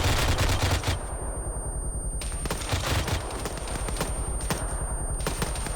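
A DShK heavy machine gun fires in a video game, loud rapid bursts of thudding shots repeating steadily with brief pauses between strings.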